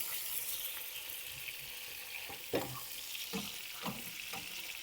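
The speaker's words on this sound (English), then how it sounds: "Gonna stir them up." Potato gnocchi sizzling in a pan of sauce with dill and garlic while being stirred, a quiet steady sizzle broken by several scraping stir strokes near the end.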